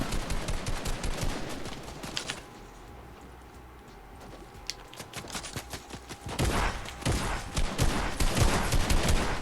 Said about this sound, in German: Schieß den Felsen zusammen